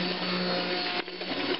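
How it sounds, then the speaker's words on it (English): A stick blender whirs steadily as it blends liquid shampoo, a loud continuous motor drone that dips briefly and strains as the mixture starts to thicken. "I hope I don't burn the motor out of my stick blender"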